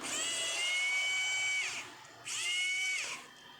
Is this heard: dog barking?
no